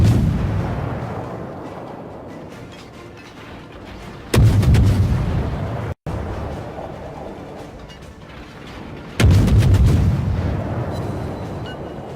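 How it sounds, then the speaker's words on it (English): Two loud warship gun salvos in World of Warships boom out several seconds apart, each a sharp blast trailing into a long rumbling decay. "allowing Salty to rake some good gunfire in on him"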